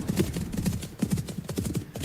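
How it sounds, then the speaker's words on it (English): Horses' hooves clip-clop steadily along a riverside track, a brisk repeating rhythm of several animals close by, with no talking over it. "We've got horses, and we follow on the track along the river."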